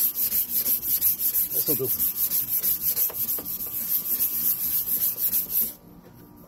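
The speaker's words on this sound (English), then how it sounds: "we're gonna start off by sanding the whole thing with it" Hand sanding of a foggy car headlight lens makes a close, rhythmic back-and-forth rubbing scratch, about two strokes per second, with a short spoken remark partway through before the strokes stop.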